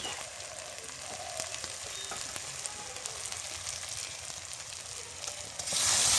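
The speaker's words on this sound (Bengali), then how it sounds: "এবং হলুদ গুঁড়ো দিয়ে ভালো করে কষিয়ে নেব তেল ছাড়া অবধি" Chicken curry spices with turmeric, salt and garlic frying in oil in a pan, a steady close sizzle with faint stirring scrapes, rising louder near the end.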